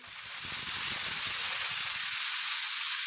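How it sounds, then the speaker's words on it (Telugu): A pressure cooker whistle sounds while ridge gourd dal cooks: a loud, steady, high steam hiss that swells in and holds for about three seconds, with faint rattling beneath at first. "మూడు విజిల్స్ వచ్చాయండి"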